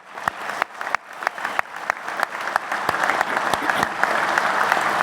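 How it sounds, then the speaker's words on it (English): A conference audience applauds steadily during a senator's speech, the clapping building slightly and sustaining for several seconds, fairly close and without talk over it. "Let's give them all a round of applause"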